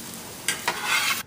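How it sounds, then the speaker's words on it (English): Slices of French toast frying in a pan give off a steady sizzle, broken by two sharp scraping bursts as a spatula moves them, then cutting off abruptly. "we finished pan frying our French toast"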